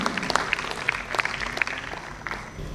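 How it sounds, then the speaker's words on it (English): A small audience at a medical scientific conference session claps in scattered, uneven bursts, with individual hand claps standing out fairly close against a low background murmur. "Give a huge round of applause for Dr."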